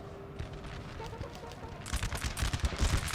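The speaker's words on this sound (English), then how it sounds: "We've opened fire and returned fire over here." Massed musket volleys from line infantry in the Napoleonic-era strategy game Napoleon: Total War, a steady crackle of overlapping shots that swells into louder, denser rolling fire over the last second and a half, with no talk.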